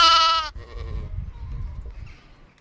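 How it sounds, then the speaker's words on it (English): A sheep bleats once, a loud, close, quavering cry lasting about half a second, followed by low rustling and shuffling noise. "sheep."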